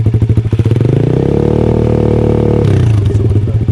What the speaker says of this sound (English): you guys can hear a comparison, you know, at least idling and revving